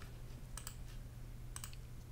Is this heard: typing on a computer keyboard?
yes